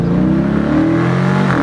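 The naturally aspirated 5.7-litre V8 of a 2022 Dodge Challenger R/T revs loudly up close, a deep throaty roar with rising pitch over a short burst.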